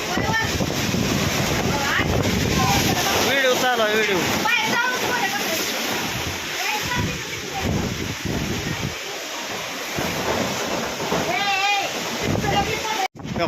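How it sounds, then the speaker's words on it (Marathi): Strong wind during rain roars and buffets the microphone continuously around a house with a metal-sheet shed, with a voice talking intermittently beneath the gusts. "बघा किती वारा सुटले"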